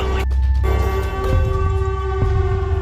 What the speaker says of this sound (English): That's the Siren Head sound.